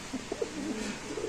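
Sirazi pigeons at a pigeon sale give a few soft, rhythmic coos at close range, with faint chatter in the background.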